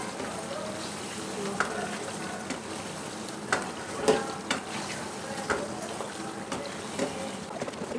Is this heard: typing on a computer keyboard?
no